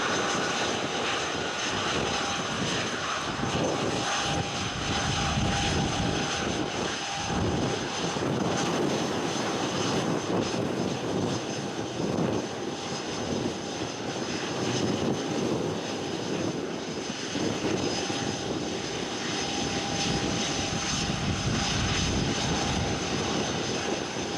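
A Citation jet lands on runway 26 left at Spirit of St. Louis Airport, its engine roar steady and loud throughout, with a sustained whining tone over a broad rushing rumble.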